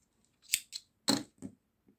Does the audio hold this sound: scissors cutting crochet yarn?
yes